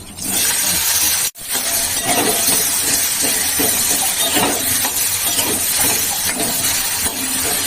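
Ripe jujubes hit hot oil with five-spice for masoor dal, bursting into a loud, continuous close-up sizzle. Apart from a momentary drop early on, it keeps a dense, crackling hiss throughout, with no voices.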